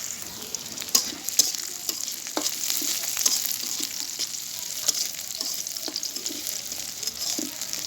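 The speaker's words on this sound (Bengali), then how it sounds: "পেঁয়াজটা আর একটু লাল লাল করে ভেজে নিব" Onions fry in oil in a pan, a bright continuous hiss with scattered light spatula taps and stirring, close and steady with no voices.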